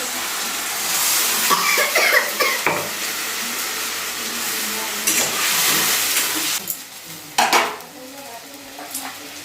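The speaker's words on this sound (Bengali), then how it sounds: "পেঁয়াজ আদা রসুন আর লঙ্কা পেস্ট করে রেখেছি সেই পেস্ট করা মশলাটা আমি দিয়ে দিচ্ছি" Onion, ginger, garlic and chilli paste hits a hot pan for a fish dish in a village kitchen, giving a steady sizzle with scraping stirs and a few sharp utensil clatters, close and fairly loud.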